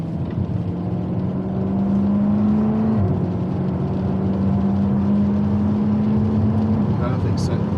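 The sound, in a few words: Jaguar F-Type SVR engine driving on a race track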